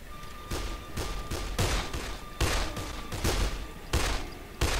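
Pistol gunfire in the video game Dead Island, a rapid run of sharp, loud shots in irregular bursts with a steady electronic tone beneath, no talking.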